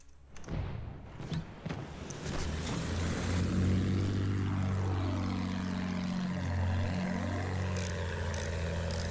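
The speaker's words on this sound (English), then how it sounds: "Somebody told me that's a plane here." A propeller plane engine in the video game Battlefield 1 drones loudly and steadily, its pitch sweeping down and back up as it passes close by, after a few sharp bangs.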